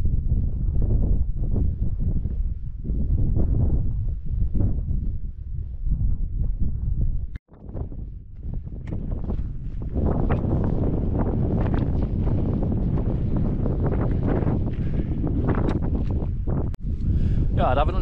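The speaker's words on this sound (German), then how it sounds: "Ist nämlich echt mega windig hier." Strong wind buffets the microphone near a mountain summit cross at about 2520 metres on Watles in South Tyrol, loud rumbling gusts that rise and fall, briefly drop out, then return with more force.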